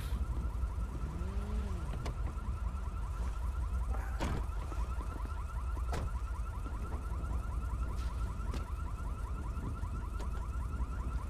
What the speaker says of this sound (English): That sounds like a car alarm.